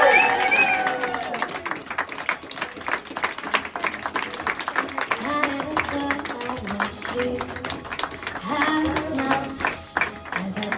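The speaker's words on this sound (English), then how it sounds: "Can we have a rousing cheer and round of applause for the new Miss and Mrs." Wedding guests at the Sitwell Arms Hotel cheer and clap for the newlyweds Jodie and Adam as they leave, a lively crowd of applause and shouts mixed under loud pop music.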